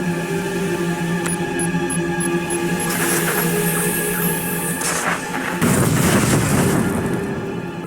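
Artillery strikes slam into cannon positions in a Star Wars game on Tatooine, a sustained rumbling bombardment with a heavy boom bursting in near the end, layered over droning game ambience and music.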